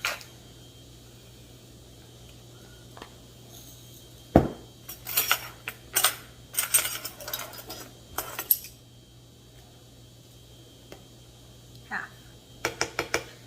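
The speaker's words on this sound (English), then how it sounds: "I'm just gonna grind it into this lid" Salt is ground by hand into a lid, heard as sporadic gritty crunching and clicking bursts against a quiet, humming room, with a sharp knock partway through and a few short crackles near the end.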